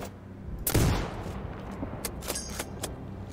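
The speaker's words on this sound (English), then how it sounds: "Zed, switch to electricity bullet." EMP electricity sniper bullet shot in the video game Sniper Ghost Warrior Contracts 2, a single loud crack with a booming low tail, followed by fainter clicks and game effects.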